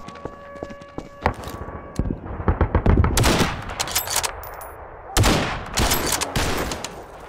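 Rifle gunshots in the Garry's Mod video game: a rapid burst of sharp cracks, then louder scattered shots with a heavy blast near the middle. Also present are clattering footfalls like hooves, all loud and close.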